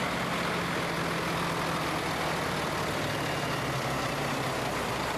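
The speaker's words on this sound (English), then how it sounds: "T. French and Son again with the Volvo FH12." A Volvo FH12 truck engine idles at a wagon run, a loud, steady low diesel rumble that fills the whole stretch without letting up, with no voices over it.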